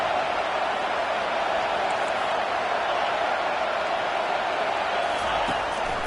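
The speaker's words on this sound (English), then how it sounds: "Decibels rising as the crowd gets behind this defense on third down." Steady roar of a stadium crowd in the NCAA 25 college football video game, building on a defensive third down, a broad continuous wash of noise holding at one level throughout.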